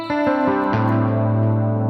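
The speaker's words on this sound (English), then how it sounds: "and the delays that you can hear on this patch" Electric guitar played through a ToneX pedal with reverb, chorus and delay: a few picked notes and then a held chord ringing out with shimmering modulation and echo tails, alone and fairly loud.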